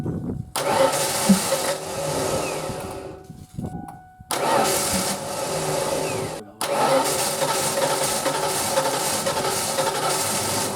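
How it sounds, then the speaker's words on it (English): A 1992 Ford Mustang convertible that sat for 13 years cranks and fires, with two brief cut-outs before the engine catches again and settles into a loud, steady run close by. "Let's see if this thing will fire up and see what happens."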